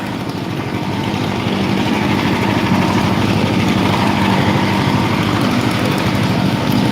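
A chainsaw with a blade in need of sharpening runs loud and steady as it cuts dry gum wood for winter firewood, a continuous engine drone with no pauses and no talk.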